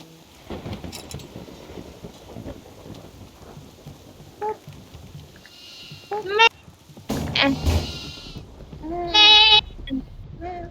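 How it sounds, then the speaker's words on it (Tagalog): Goats in the horror video game Devour let out a few wavering bleats, mostly near the end, over a rumbling, noisy game soundscape while a player talks. "Papakawalan ko na itong mga kambing."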